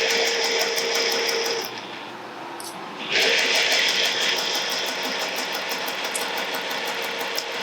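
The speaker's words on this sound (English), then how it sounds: "once you're down the other side, just stitch normally" A sewing machine stitches a clutch bag in a fast, steady mechanical whir. It drops briefly to a lower hum around the middle, then resumes at full speed, loud and close.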